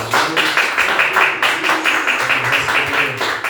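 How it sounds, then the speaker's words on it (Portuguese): A church congregation at an evening service claps together in a steady, rhythmic burst of applause, fairly loud and continuous for several seconds. "Uma salva de palmas para Jesus."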